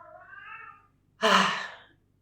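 A house cat gives a short, close meow followed by a louder, breathier second call, both clear against a quiet room.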